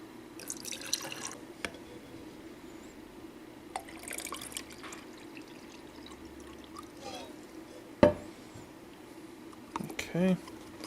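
Water is poured into the reservoir of a PC cooling loop, heard as faint intermittent trickles and drips with a few sharp taps and clicks in a quiet room, with brief speech.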